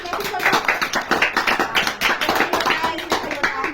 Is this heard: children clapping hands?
yes